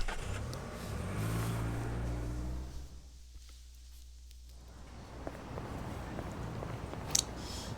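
A taxi driving in the video game Yakuza Like A Dragon, a low, fairly quiet engine hum that fades out midway and then returns as muted road noise with a few small clicks.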